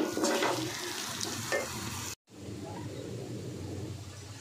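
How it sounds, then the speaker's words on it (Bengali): Cubed chicken tipped into spiced oil in a pan for a chicken and vegetable dish, sizzling and frying with stirring scrapes, a brief gap midway before a steadier, quieter sizzle resumes. "আমি আগে থেকে যে কিউব করে চিকেনটা ছিল সেটা দিয়ে দিচ্ছি"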